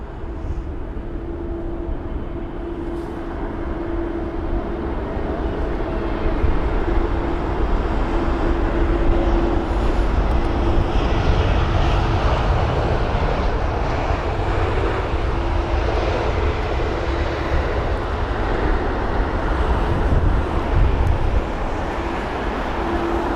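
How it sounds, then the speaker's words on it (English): A British Airways A320neo at London Heathrow on a windy day, its engines a steady, loud, broad roar that swells and holds for over twenty seconds with no voices. "Reg on board this A320neo today is going to be Golf Tango Tango November Oscar"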